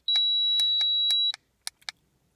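A Yashio Factory water temperature gauge emits a sustained high beeper tone lasting over a second, overlaid with rhythmic clicks, then a few short separate clicks in a quiet room.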